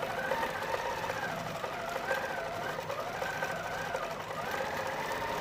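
A Q'nique 19 quilting machine stitches in regulated cruise mode with a fairly quiet, continuous whirring hum whose pitch rises and falls slightly as the needle speed shifts.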